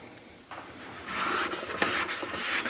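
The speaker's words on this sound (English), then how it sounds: "You're sanding off those bad scratch marks." Steady abrasive rubbing, a rough scraping rasp of sanding out scratches on a stainless steel kitchen sink, swelling and continuing back and forth close by, with no voices.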